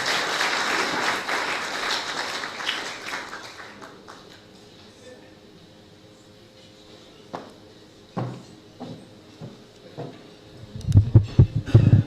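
Audience applause greets speaker Aurora Zacarias at an EC2018 talk, dense and steady at first, then fading within four seconds into a quieter room with occasional thumps and low voices.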